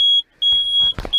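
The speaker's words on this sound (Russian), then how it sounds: "Зуммер." A loud, steady high-pitched electronic warning buzzer on an LW300F wheel loader sounds in cold weather, cuts out briefly twice, and resumes, with a low thump and rattle during the gaps.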